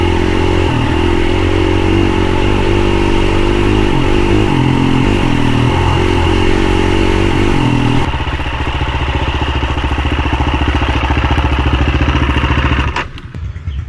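Several motorcycles ride together along a road near Kulen mountain in Cambodia, a steady loud engine drone with shifting revs that holds throughout and cuts off abruptly near the end; no voices.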